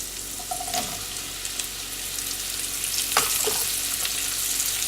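Mushrooms dropped into a pan with garlic already browned give a steady, close sizzle throughout, with a few sharper spatters and stirring clicks partway in and no voices.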